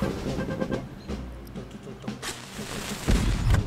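Rocket blasts from an Apple Arcade car game crack out in a dense, noisy barrage, with a heavy booming burst near the end among layered game effects.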